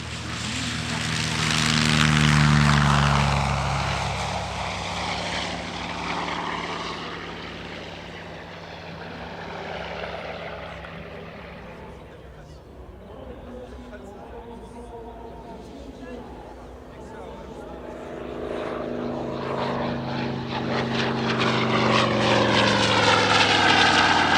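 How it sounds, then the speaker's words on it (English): CAC Boomerang replica propeller fighter, a Dutch-based aircraft built from Harvard and Boomerang parts, flying at the Leszno airshow in Poland. Its engine drone swells loud as it passes, fades mid-pass, then builds again, with a commentator talking over it. "it's joined very shortly by a Dutch-based replica Boomerang, the only Boomerang flying outside Australia"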